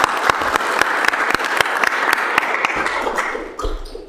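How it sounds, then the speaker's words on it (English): A city council chamber bursts into a final round of applause, crisp individual claps mixed into a steady dense patter that softens toward the end, with faint room noise underneath. "give you a final round of applause"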